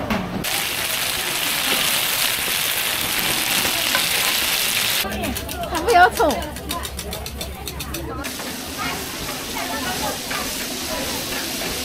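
Pan-fried buns (shuijianbao) sizzle steadily on a griddle at an open-air morning market stall in Nanjing, with a brief clatter near the middle and vendors' voices talking over the frying.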